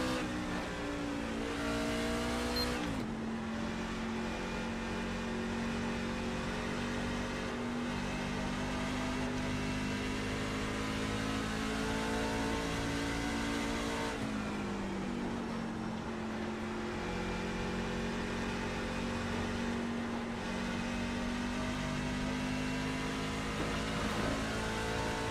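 Sustained roar of a NASCAR race car engine at Phoenix, loud and continuous, with the pitch dipping and climbing again at several points as the car brakes and accelerates.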